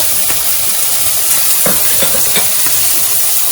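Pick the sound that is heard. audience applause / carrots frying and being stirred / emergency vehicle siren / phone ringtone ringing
carrots frying and being stirred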